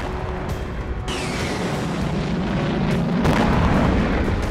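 Loud, continuous rumbling blast noise from a Russian strike on Ukrainian territory, with a broad roar and a sharper burst partway through, heard alone without voices.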